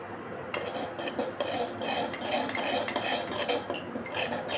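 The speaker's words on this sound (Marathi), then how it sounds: "आपल्याला परत हे बॅटर मिक्स करायचं आहे." A spoon scrapes and clinks against a bowl while homemade chocolate cake batter with vanilla essence is mixed, in a steady, soft rhythm of stirring and scraping close up, with no voices.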